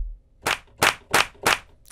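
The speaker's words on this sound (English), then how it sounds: "Let's work with that clap." Four crisp, dry handclaps from a drum kit's clap sample, played in an even, steady rhythm, each one short and punchy with silence between hits.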